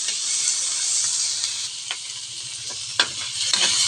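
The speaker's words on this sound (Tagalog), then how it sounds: "Sili, loya at kamatis, sibuyas, ginisa ko na lang." Chili, ginger, tomato and onion sautéing in a pan, a steady close frying sizzle with occasional scraping stirs of a utensil over it.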